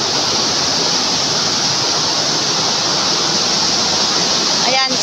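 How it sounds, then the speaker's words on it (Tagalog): Strong rushing water pours at Wawa Dam in Rodriguez, Rizal, a loud, steady roar filling the whole stretch with a brief rustle near the end. "yung agos ng tubig. Sobrang lakas, no?"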